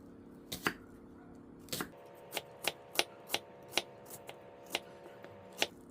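An onion is chopped with a knife on a cutting board, a dozen crisp, close knocks in an uneven but steady rhythm, with no talk.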